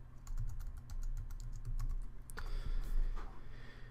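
Keys clatter in a quick, steady run as a command is typed on a computer keyboard in a quiet room, a short burst of louder clicks coming near the end.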